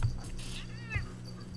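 Huskies kept indoors give two brief, high whining yowls that sound almost cat-like, close by and fairly quiet, with low background noise.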